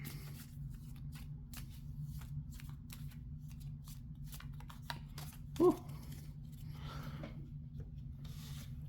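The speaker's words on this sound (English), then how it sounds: "Shuffle my deck a little bit." Soft papery riffling of a card deck being shuffled, a steady rustle over a low hum, with one brief louder tap partway through.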